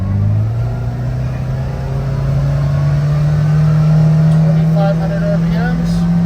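A 2024 Kawasaki Ridge XR side-by-side engine holds a steady, loud, close hum that rises slightly in pitch as it revs toward 2,500 RPM, with a faint voice talking partway through.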